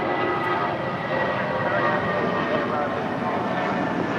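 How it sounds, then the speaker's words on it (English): Spirit Airlines Airbus A320 jet departing from LAX, a steady, dense engine roar that holds at an even level from start to finish. "That is Spirit Airlines Flight 816 departing to Kansas City, Missouri on an A320."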